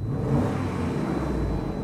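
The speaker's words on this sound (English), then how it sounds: "I put my foot on the throttle and it immediately cut out." A Dodge Durango engine with a fault that makes it cut out under throttle holds a steady, close mid-pitched rev for a couple of seconds, with no stall heard.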